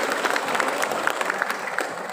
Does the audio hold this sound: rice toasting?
no